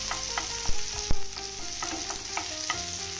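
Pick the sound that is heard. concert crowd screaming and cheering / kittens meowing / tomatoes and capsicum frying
tomatoes and capsicum frying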